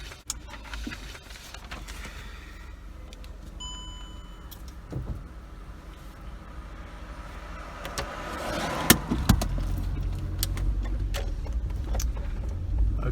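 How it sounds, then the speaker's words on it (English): A 2014 VW Polo Vivo being started: keys and chimes, faint clicks and cabin noise, then the engine catches near the end and settles into a steady idle close by. "So why don't we start it up and let's go for a drive."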